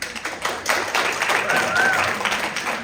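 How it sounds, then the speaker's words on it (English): Sixth-grade band students clap for their parents at a spring concert, a steady patter of many hands in a room, with voices heard faintly under it. "So, kiddos, can you give your parents a thank you clap?"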